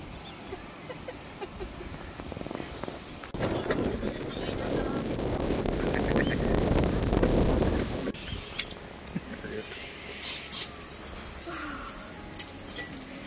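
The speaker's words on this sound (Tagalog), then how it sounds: "Lakas ng hangin." Gusty wind buffets the microphone at an ocean beach campsite in Umina, swelling into a loud roar midway before easing back to a steady rush.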